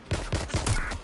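Rapid burst of video-game gunfire from a police shootout, several quick close shots in a tight rhythm.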